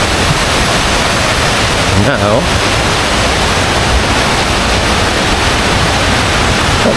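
Aliwagwag Falls roaring as a loud, constant broadband rush of falling water close by, with a voice speaking briefly under the din.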